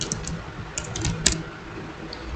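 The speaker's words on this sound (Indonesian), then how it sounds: "baru kita ketik lagi network" Light typing on a computer keyboard while configuring OSPF on a network router, a scatter of soft close key clicks in an irregular rhythm over faint background hiss, no talk.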